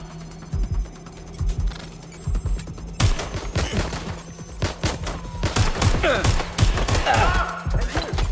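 Rapid bursts of gunfire in the video game Watch Dogs Legion crack out in irregular volleys over a droning electronic hum, growing denser and louder toward the end.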